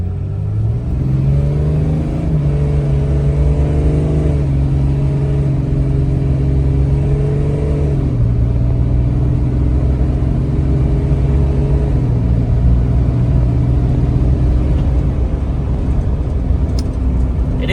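A truck engine, warmed up to operating temperature, revs steadily and loudly, its pitch rising and falling in broad sustained surges with a constant rumble and no talking.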